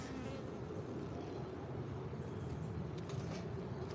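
Honey bees hum steadily at an open hive box, a low, even buzzing swarm close by and quiet, with a few sharper ticks near the end.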